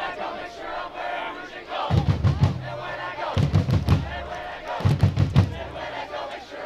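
Loud soccer supporters' chanting at a Detroit City FC away match in Ann Arbor, three bursts of rhythmic shouted chant over pounding drum beats, with crowd noise and talk between them.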